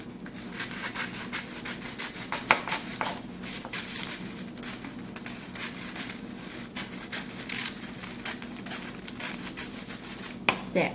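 Baking paper being folded, rubbed and cut into a circle to line a cake pan, giving close, continuous rustling and crinkling with quick scissor-like snips throughout.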